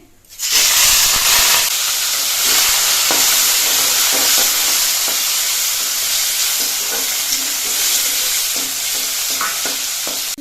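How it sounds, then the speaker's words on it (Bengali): Shrimp frying in a pan: a loud, steady sizzle and hiss with scattered crackles and stirring scrapes throughout. "এবার এর মধ্যে আমি চিংড়ি মাছগুলো দিচ্ছি"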